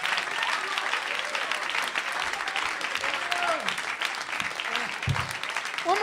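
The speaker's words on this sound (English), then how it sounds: "Everybody clap." Comedy club audience clapping for a comedian taking the stage, sustained crowd applause with some cheering and voices mixed in throughout.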